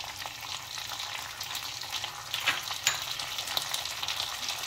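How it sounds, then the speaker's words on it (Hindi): Chicken frying in a pan with a honey mustard dressing, a soft continuous sizzle with scraping stir strokes growing busier midway, close but fairly quiet, no talking. "थोड़ा थोड़ा मिक्स करते रहेंगे ताकि हमारा जो मसाला ड्रेसिंग मसाला है वो ज़्यादा ना हो जाए।"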